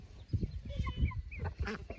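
Chickens, including an old rooster, cluck in short, low, repeated bursts beside a farm pond shared with ducks, close and moderately loud with faint ambient noise around them.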